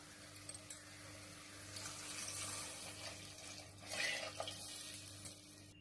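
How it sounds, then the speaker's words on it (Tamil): Tamarind water is poured into a tomato and spice mix for vatha kuzhambu with sundakkai vathal, giving a soft, steady splashing and trickling with a low background hum. "இப்போ இது கூட நம்ம கரைச்சி வச்சிருக்க புளி ஆட் பண்ணிடலாம்."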